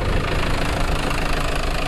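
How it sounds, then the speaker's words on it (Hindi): A Sonalika tractor engine runs slowly at a loud, steady idle-like throb with heavy low rumble and a knocking texture, close by with no talking. "बताओ इतना मंदा ट्रैक्टर चल रहा भाई"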